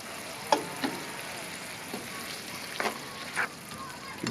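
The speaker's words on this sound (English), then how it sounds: "Give that a nice stir around." A cream sauce with lime simmering and being stirred in a pan, giving a steady soft sizzle and bubbling with a few light scrapes and clicks, close and fairly quiet.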